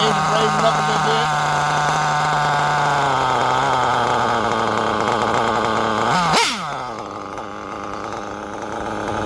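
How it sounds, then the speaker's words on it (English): A Reds R5R nitro engine with a horizontal carb buzzes loudly at close range, its whining pitch climbing slightly before a sharp burst. It then drops abruptly to a lower, rougher running note. "Engine raising up a little bit."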